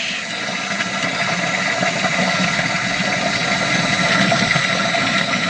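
Steady rushing of water filling a boat's tank around a float switch, a continuous broadband wash with a low mechanical hum underneath, no voices.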